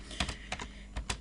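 Keys clatter on a computer keyboard while a command is typed into an Ubuntu server, with quick uneven taps in small bursts that sound close but faint.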